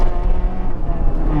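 A loud modified exhaust on a Maruti Suzuki Swift gives a deep, throbbing rumble close by, pulsing unevenly over a brief moment of driving.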